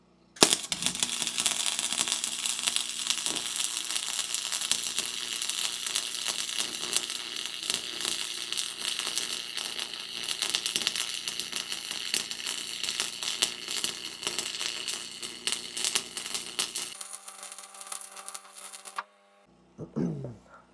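A Lincoln welder lays a weld bead with a fast, crackling, popping sizzle that runs loud and steady for about sixteen seconds, then stops abruptly, followed by a brief quieter tail.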